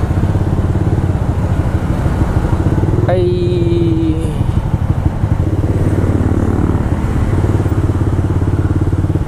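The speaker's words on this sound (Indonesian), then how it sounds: "Gebernya kurang narik koplingnya, lompat-lompat gitu." A motorcycle engine runs loudly and close throughout, a steady throbbing drone with a brief high whistling tone partway through, recorded while riding through traffic.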